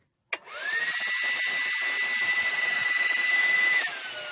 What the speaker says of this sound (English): let you hear how the dryer is, blowing and stuff